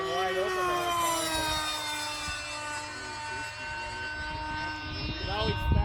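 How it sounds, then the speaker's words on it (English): An RC model F21 Kfir jet running at full throttle, a loud sustained high whine with strong steady tones that stays constant, with people talking over it. "You feel bad for the motor being wide open the whole time."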